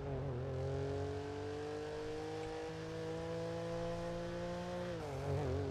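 A BMW M5 E39 engine hums steadily with a deep, rising tone, then the pitch dips and revs back up near the end, close and continuous.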